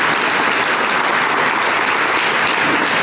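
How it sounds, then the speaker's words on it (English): An event audience applauds its sponsors with a loud, continuous wash of many hands clapping, steady and full for the whole stretch. "a round of applause, thank you to them for their support"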